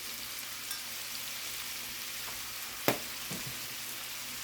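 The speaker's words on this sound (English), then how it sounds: "Now we're just going to stir fry that till we get it" Seasoned beef stir-fries in a pan with garlic, herbs and pepper, giving a quiet, steady sizzle with a few soft clicks of stirring and no voices.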